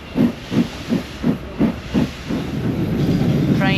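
An Andrew Barclay Austerity steam locomotive gives off a rhythmic series of about six steam chuffs and hisses, then shifts into a continuous louder hiss, with a brief high whistle-like tone at the end.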